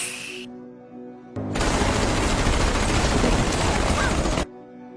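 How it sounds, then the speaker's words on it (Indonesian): A sustained burst of rapid gunfire rattles loudly for about three seconds, dense and continuous, then cuts off abruptly to quiet. "Mereka semua lalu diberondong peluru hingga tewas."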